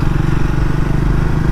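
Triumph Speed 400 motorcycle engine pulling in third gear at low speed, a loud, close, steady low-pitched thrum with a fast pulsing beat.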